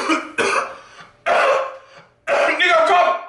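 Three deliberate coughs, spaced about a second apart, each a harsh voiced burst, the last one longer and doubled, close and loud.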